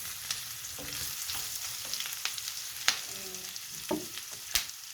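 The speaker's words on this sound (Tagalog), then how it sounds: "Halo-haloin natin ang ating mga sangkap at saka chicken guys." Chicken and other ingredients, garlic among them, are stirred in a frying pan, a soft continuous sizzle with scattered scrapes and clicks of the utensil, quiet and close, with no talking.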